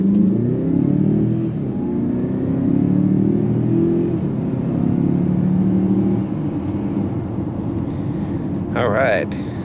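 A 2024 Mazda CX-5 in sport mode pulls away hard, its engine note climbing through several rising sweeps, heard steadily from inside the cabin with a brief higher burst near the end.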